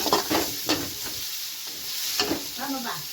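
Onions sautéing in a pan give a hissing sizzle broken by spoon stirs and scrapes at close range, with brief voice-like sounds at the start and end.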